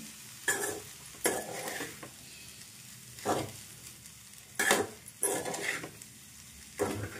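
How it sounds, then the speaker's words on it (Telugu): Aavakaya fried rice is fried and stirred in a pan, soft background sizzle broken by repeated scraping strokes of a spatula against the pan at uneven intervals, close and fairly quiet. "ఒక 5 నిమిషాలు ఇలా ఫ్రై చేసుకుంటామండి."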